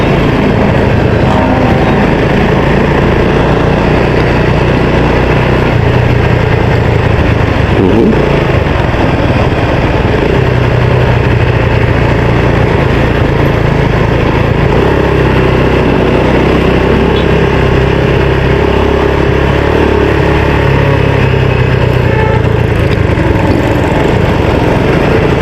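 Motorcycles pass along a hot street in Angeles, Pampanga, their engines droning continuously and rising and falling at moderate distance over steady outdoor traffic noise, with no talk.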